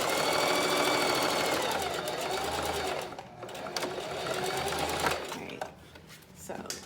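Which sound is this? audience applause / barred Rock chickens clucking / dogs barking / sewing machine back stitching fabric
sewing machine back stitching fabric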